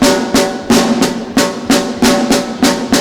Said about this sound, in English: A double stroke roll open would sound something like this.